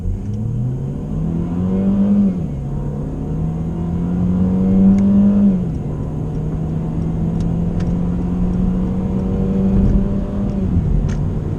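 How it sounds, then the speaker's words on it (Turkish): A Mercedes W213 E180 with a 1.6 turbo engine and 9G-Tronic gearbox is revved under full throttle, engine note climbing steadily, briefly dropping at gear changes, loud, close and continuous with no talk. "Araç dolu dolu devirleniyor."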